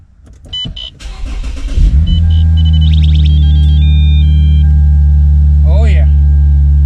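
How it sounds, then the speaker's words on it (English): A Lexus IS350 engine cold-starts with a brief crank that catches into a loud, steady high idle, while chimes and beeps sound close by. "This is probably gonna be the last cold start."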